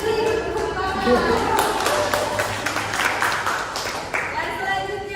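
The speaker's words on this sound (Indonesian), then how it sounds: "Beri tepuk tangan" Classroom applause for a student's correct answer, a short burst of clapping from a group that fades under a teacher's continuing talk.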